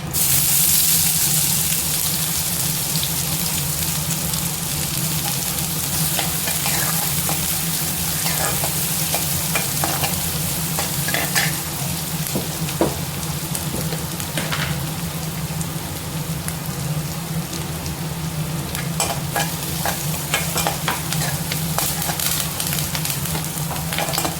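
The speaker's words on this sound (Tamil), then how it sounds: "காரத்துக்கு காஞ்ச மிளகாய் கூடவே வெங்காயம் சேர்த்து" Dried red chillies and onions sizzle in hot oil in a pan for brinjal stir-fry, a loud, dense, continuous crackle with frequent sharp pops throughout, no voices.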